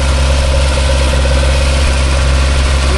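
A Toyota 3TC engine with 12:1 compression in a wagon, held steady at about 2,000 RPM during break-in, gives a loud, continuous drone close by, even and unbroken with no talking.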